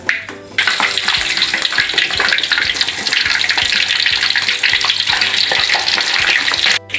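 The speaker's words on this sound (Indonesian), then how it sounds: "Sekarang ikannya kita goreng lagi ya bun. Kita ambil ikannya, kita goreng ya bun." Fish frying in a pan of hot oil gives a loud, steady sizzle that runs almost without pause for the whole stretch, with no talking over it.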